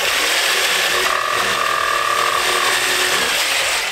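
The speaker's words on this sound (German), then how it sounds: "jetzt kannst du das bitte aussägen" A jigsaw cuts a wooden dart shelf for a living-room dart wall, giving a steady, loud buzzing rasp that runs unbroken for about four seconds with no voices.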